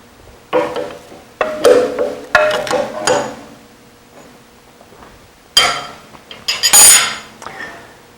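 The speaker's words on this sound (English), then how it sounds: "We'll tighten it into place with a wrench." A metal wrench tightening a bench vise, with sharp metallic clanks and ratcheting scrapes in short irregular bursts separated by quiet pauses, close and loud.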